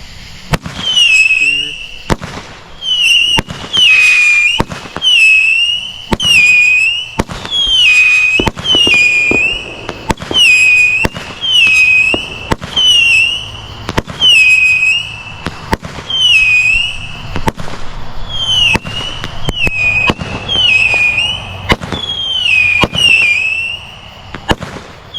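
Backyard July 4th fireworks in Texas, shooters or flamers, sent up as a long steady series of sharp whistling launches and pops, loud and close, repeating every second or so.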